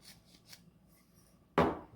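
Rosemary is ground in a spice grinder: a few faint taps, then one short, loud, close crunching burst near the end.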